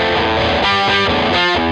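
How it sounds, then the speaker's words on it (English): Electric guitar played through a heavy overdrive distortion effect, a loud sustained chord with a thick, buzzing harmonic tone and a few rhythmic pulses across a short phrase. "use the overdrive distortion for that"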